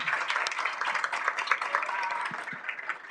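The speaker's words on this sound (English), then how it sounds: "Let's give him a round of applause." An audience at a panel discussion gives a speaker a round of applause, crisp individual claps blending into moderate, fairly quiet applause that continues throughout, with a few voices faintly underneath.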